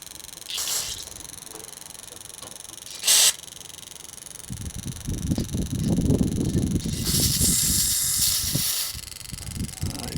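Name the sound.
F150 i6 fuel injector spraying during test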